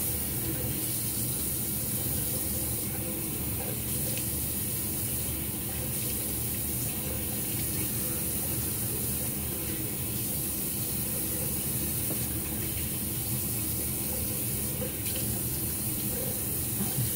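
Water tap running steadily into a sink for a rinse between shaving passes, a continuous close rushing splash without pause.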